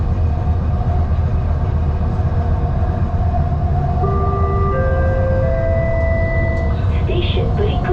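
Steady low rumble of a Kuala Lumpur LRT light rail train in motion, with tonal whines rising and shifting as it travels, and faint voices in the background.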